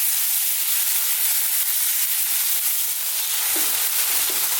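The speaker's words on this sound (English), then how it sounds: "Let's just throw this around in the pan." Beef and chopped ginger frying over lively heat as the pan is tossed, producing a dense, even hiss of sizzling with faint stirring knocks toward the end, close and without talk.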